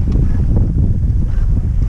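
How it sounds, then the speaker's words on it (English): Steady wind buffets the microphone on a Twister sailboat off the Spanish coast near Valencia, a continuous low rumble of gusts with faint water wash beneath, no talk. "The wind's dropped now to about 8 knots"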